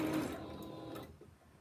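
A sewing machine runs slowly while stitching a narrow rolled hem in lightweight fabric, a brief, soft mechanical whir with rapid needle ticking that tapers off near the end.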